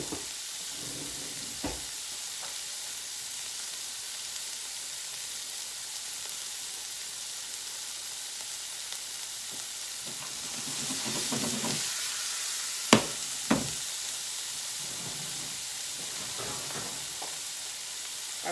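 Celery frying in a pan gives off a steady, even sizzle for the whole stretch. A few sharp clinks of a utensil stand out near the end, and no voices are heard.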